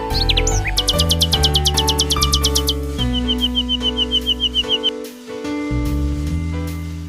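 A songbird chirps in quick rhythmic bursts, rapid repeated high notes and then a trilling series, loud and close over a steady tonal background.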